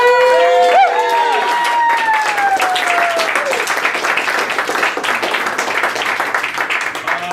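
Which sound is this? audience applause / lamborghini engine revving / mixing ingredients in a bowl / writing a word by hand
audience applause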